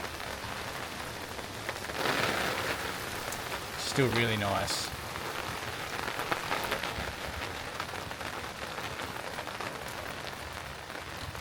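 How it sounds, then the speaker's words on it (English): Rain falls steadily in a continuous hiss of drops on surfaces outdoors, with a brief passing sound in the middle and a short spoken remark over it. "Finally, a little bit of rain."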